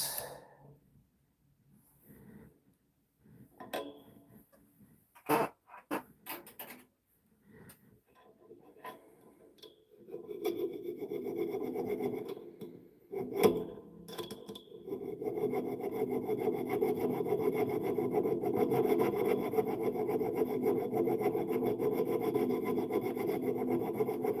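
Scattered scrapes and knocks, then a steady, loud rasping of silver being filed that continues without pause to the end.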